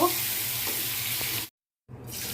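Ridge gourd pieces frying in hot oil in a pan give a steady, close sizzle that cuts out abruptly for a moment, then resumes just as loud.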